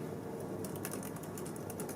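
Quick, soft, light clicks of typing on a pink Logitech keyboard made for an iPad, tapping in a steady close-up patter over a quiet room hum.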